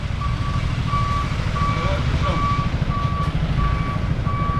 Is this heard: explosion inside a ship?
no